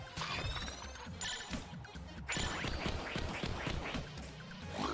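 In Enter the Gungeon, a string of bright, repeated duck quacks chatters over clattering game sounds, pausing briefly before a denser run of quacks continues to the end.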